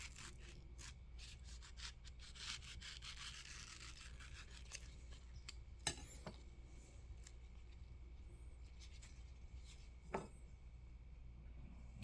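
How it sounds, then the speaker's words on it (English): A knife cuts open a ripe Maha Chanok mango with dark yellow flesh, giving quiet, close scraping and slicing strokes with a couple of sharper clicks as the blade works through skin and flesh. "So I'm gonna go ahead and cut this open."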